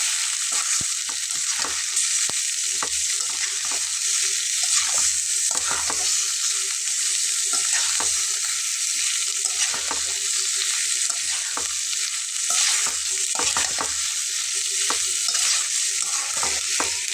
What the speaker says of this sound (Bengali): এগুলো সব আমি একসঙ্গে খুব ভালোভাবে কষিয়ে নেব